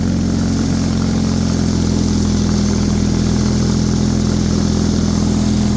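A Bolens HT23 snow blower engine labors in heavy, deep, wet snow, a loud, steady, close-up engine drone with no pauses throughout.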